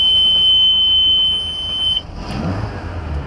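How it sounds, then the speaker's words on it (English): A boat engine's low oil pressure alarm sounds as a steady, loud, high-pitched beep for about two seconds, then cuts off, leaving the engine's low rumble running alone. "I have to get that beeping thing fixed on the other engine as well."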